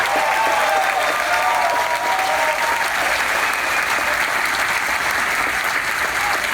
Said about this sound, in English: How about giving them a big round of applause?